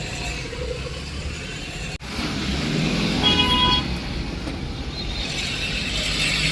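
A highway traffic jam, with vehicles idling and rolling close by under steady road noise. A single short car horn toot sounds partway through, and no one speaks.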